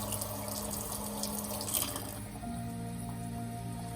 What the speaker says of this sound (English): you're going to fill your Force of Nature bottle up to this fill line right there